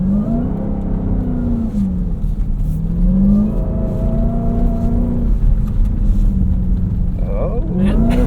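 A 710-horsepower 2026 Dodge Durango SRT Hellcat Jailbreak AWD accelerates on snow at a rally school, its engine rising and falling through several loud, close revving pulls with a steady drone between.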